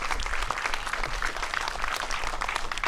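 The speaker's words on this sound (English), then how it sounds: "that's a good place to applaud" A crowd applauds during a speech at an outdoor July 4th event at Sagamore Hill, with steady, dense clapping for about three seconds.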